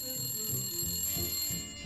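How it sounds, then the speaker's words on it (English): A telephone rings with a continuous, bright electronic trill, fairly loud and steady throughout, with low rumbling room noise underneath. "Hey, Dad, telephone."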